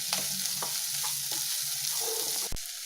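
Garlic, shallots, cloves, fennel and cumin sizzle steadily in a hot oiled pan for an egg gravy, with a spoon stirring through at intervals and a sharp metallic tap near the end; no talking.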